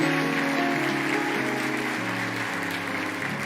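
Strong, sustained applause from a church congregation praising God during a Spanish-language service, steady and fairly loud, with sustained musical tones running beneath it.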